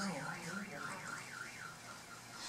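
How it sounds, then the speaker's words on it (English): A car alarm set off by the air blast of a meteorite in Colorado wails with a rapid rising-and-falling electronic tone, steady and somewhat distant among outdoor background noise. "sets off more car alarms"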